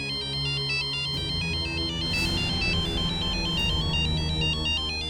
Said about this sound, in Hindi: सर ये उसी का फोन है।